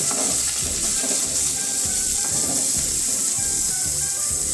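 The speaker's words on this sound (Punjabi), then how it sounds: "ਹੁਣ ਇਹਦੇ ਵਿੱਚ ਆਪਾਂ ਪਿਆਜ਼ ਪਾ ਦਵਾਂਗੇ ਪਿਆਜ਼ਾਂ ਨੂੰ ਆਪਾਂ ਬਰੀਕ ਕੱਟ ਲਿਆ ਸੀ" Finely chopped onions fry with garlic in a pan for aloo matar sabji, a loud, continuous hissing sizzle with occasional stirring scrapes and clinks underneath.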